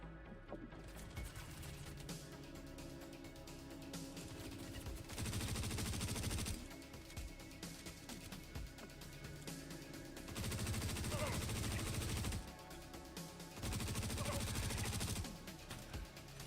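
Automatic gunfire bursts out in Star Citizen during a supply mission, three long loud volleys of rapid fire over a constant background of game noise and rumble, separated by quieter stretches.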